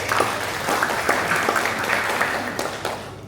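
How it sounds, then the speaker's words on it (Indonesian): A crowd claps steadily in a dense burst of applause that continues for a few seconds, loud and close. "Tepuk tangan untuk Yesus kita."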